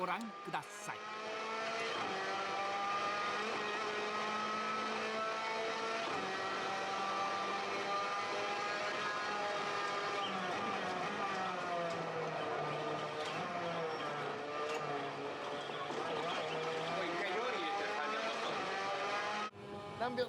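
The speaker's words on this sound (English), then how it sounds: "He drives naturally through Macau tracks in the F3." A Formula 3 race car laps the Macau street circuit, its engine a steady high-pitched whine that climbs and falls through gear changes for about twenty seconds, with talk running over it.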